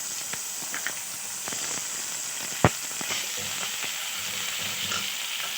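Bay leaf, onion and garlic fry in mustard oil, giving a steady sizzle with scattered stirring scrapes and one sharp clack midway, close and alone without speech.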